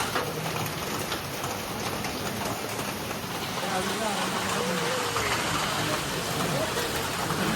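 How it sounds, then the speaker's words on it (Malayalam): Heavy rain pours steadily in a constant, even hiss of drops on surfaces, moderately loud and unbroken, with no other sound standing out. "നല്ല മഴയായിരുന്നു"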